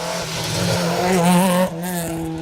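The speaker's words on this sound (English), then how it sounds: "RS 1800, historic spec Escort. Very, very similar car to Will Rowlands." Historic-spec Ford Escort RS 1800 rally car on a Manx Rally stage, its engine note rising loudly as it passes close, with a brief drop as it shifts gear before carrying on.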